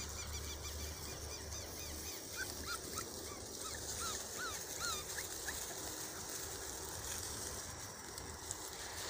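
Puppies whimper and yip in short high cries while running around a food bowl outdoors, faint and scattered over a steady background hum.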